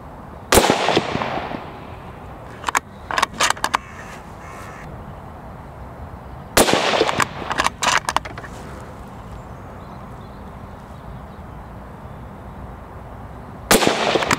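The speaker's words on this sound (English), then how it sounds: "So you've seen me shoot the rifle" A Nosler Model 21 bolt-action rifle chambered in .308 Winchester fires three loud, sharp shots spaced several seconds apart. Each crack is followed by quick clattering and rattling, and a crow caws in the background.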